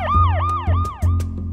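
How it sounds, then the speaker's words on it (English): An animated cartoon police car siren wails in a rapid, loud up-and-down pattern, with four sweeping cycles close up over a low rumbling engine. "We've got the siren,"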